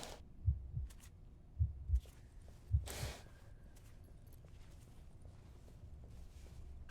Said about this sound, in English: That heartbeat sound is cool.